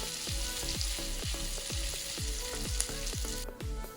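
Whole cinnamon, cloves, cardamom and bay leaf sizzling in hot oil, a steady close frying hiss with repeated rhythmic scraping strokes of stirring.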